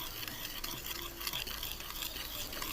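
Oil is stirred into cupcake batter ingredients in a bowl, giving a continuous soft, wet swishing and scraping, close and steady, with no talk.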